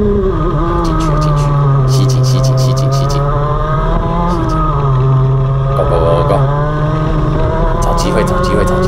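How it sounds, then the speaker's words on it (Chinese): A kart racing engine screams close by during a kart race, holding a high buzzing pitch that rises and dips as it revs through the corners, with brief clicking bursts above the steady drone. "你看阿凯的引擎真的蛮给力的"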